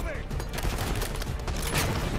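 Rapid automatic gunfire from a weapon in the video game Call of Duty: Black Ops 6, a dense continuous burst of close, loud shots lasting the whole stretch, with a voice speaking over it.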